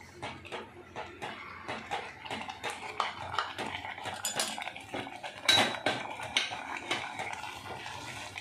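A spoon clinks and scrapes irregularly against a pot as semolina is stirred into boiling water for mango rava modak. The clatter is close and moderately loud, with no speech.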